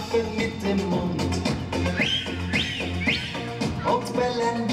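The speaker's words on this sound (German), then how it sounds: "wir pfeifen mit dem Mund" Whistled notes rising in quick upward glides over a busy children's song backing with steady rhythm, fairly loud and close.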